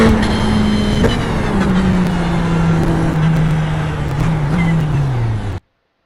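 Race car engine at VIR holding a steady loud drone, its pitch easing lower as the car slows for a downshift into third, then cutting off abruptly.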